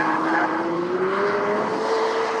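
A car with 754 horsepower and nearly 600 pound-feet of torque hoons around a track, engine droning loud and close with a rising pitch and a continuous tire squeal as it skids.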